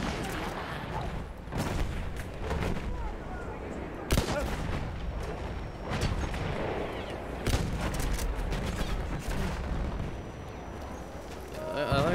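Rifle and machine gun fire in Battlefield 1 trench combat, sharp shots and bursts popping at irregular intervals over a rumbling battlefield, with someone talking over the action.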